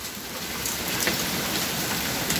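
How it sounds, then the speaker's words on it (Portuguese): Heavy hailstorm in Rolândia with large hailstones falling hard amid heavy rain, a dense continuous roar of impacts pattering on surfaces, steady and loud throughout with no voices. "com essas pedras tão grandes vindo com tanta força a chuva"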